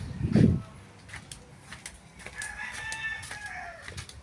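A rooster crows in the distance with a drawn-out call, after a low thump, amid faint background noise and scattered clucks.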